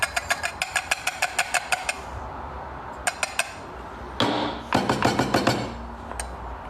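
A cheap manual coffee grinder crushing beans gives rapid, rhythmic crunching clicks in repeated bursts, close and fairly loud, with short pauses and a brief rougher grinding stretch.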